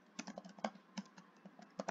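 Rapid, uneven keystrokes on a computer keyboard, a steady run of close clicks and taps with short pauses between bursts, with no voices.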